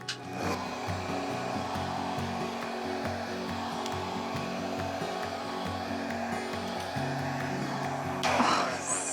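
A steady stream of air from a blower or hair dryer passes over an acrylic paint pour on a canvas, a continuous moderate whoosh with a slight hum, ending in a brief louder burst.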